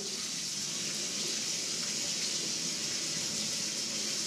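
Water runs steadily from a bathtub tap, a constant full hiss and splash with no pauses, close by and alone.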